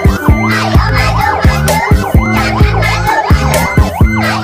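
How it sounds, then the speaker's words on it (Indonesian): A toy fire truck blares a loud electronic wailing siren that rises and falls repeatedly over a steady thumping beat. "Ada juga truk pemadam kebakaran"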